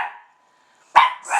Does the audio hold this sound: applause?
no